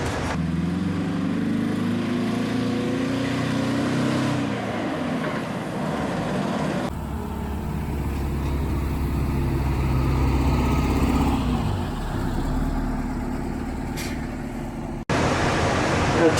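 A 1982 MCI MC9 tour bus engine drones steadily while the bus is driven, a deep, loud mechanical rumble that shifts in character partway through, with a brief cut near the end.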